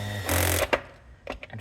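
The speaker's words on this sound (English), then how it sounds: "Now I'm gonna take the screwdriver and" A power screwdriver set to torque setting 2 drives screws into an enclosure assembly rig, giving one short, loud whirring burst followed by a couple of quieter clicks and knocks.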